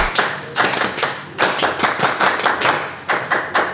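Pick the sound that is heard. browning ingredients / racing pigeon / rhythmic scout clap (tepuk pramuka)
rhythmic scout clap (tepuk pramuka)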